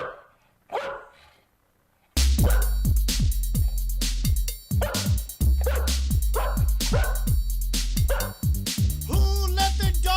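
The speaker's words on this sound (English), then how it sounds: "Who let the dog in the Capitol building?" Dog barking repeatedly in a rapid, loud series over music, after a brief quieter stretch at the start.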